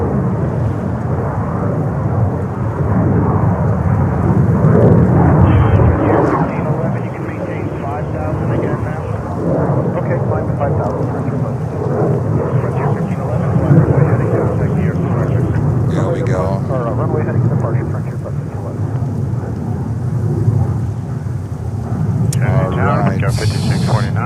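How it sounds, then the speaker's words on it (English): A Frontier airliner climbs out after takeoff from runway 22 right at JFK airport, New York, its broad, steady jet roar sustained throughout and fairly loud, with a voice talking over it. "There's Frontier at the moment climbing out here on runway 22 right."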